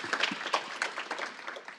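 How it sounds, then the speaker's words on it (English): Audience applause at a conference panel on open source sustainability, a short, light burst of clapping heard alone with no talking. "Round of applause, please."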